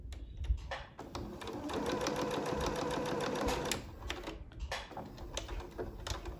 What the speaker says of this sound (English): I'm going to take that elastic from the other corner and I'm going to put it into this corner. And I'm gonna sew down.